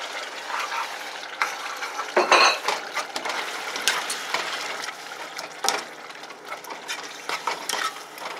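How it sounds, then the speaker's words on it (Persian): Leek and kofta pashan being stirred together in hot oil for Afghan macaroni, a steady run of scraping and clinking utensil strokes against the pan with a brief louder knock partway through. "خوب چرخ میتیم که مخلوط شود گندنه با کوفته پاشان"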